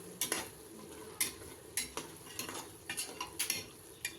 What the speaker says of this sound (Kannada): ಎಲ್ಲನೂ ಹಾಕಿ ಚೆನ್ನಾಗಿ ಮಿಕ್ಸ್ ಮಾಡ್ಕೊಳ್ಳಿ